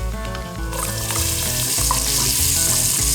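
Onions fry in bacon drippings with a loud, bright sizzle that surges as they hit the hot fat, crackling steadily over a low hum.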